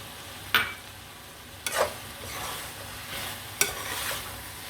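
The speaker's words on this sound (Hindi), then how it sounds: "हमने अच्छे तरीके से इसको मिक्स कर लेना है।" Bhindi chicken being stirred and mixed in a pan, with three sharp scraping strokes of a spoon against the metal over a soft, steady sizzle, close and alone.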